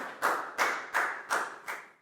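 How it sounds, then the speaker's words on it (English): Five evenly spaced, crisp claps beat out a steady rhythm in a primary school maths lesson, each one sharp and close. "a big round of applause for Pak Boom"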